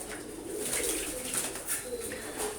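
Pigeons cooing softly and steadily in a loft, with a low, continuous murmur of several birds and faint higher chirps over a constant background hiss, no talking.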